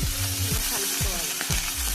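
Grated ridge gourd with green chillies frying in a pan, a dense close sizzle with repeated low thumps and scrapes from stirring.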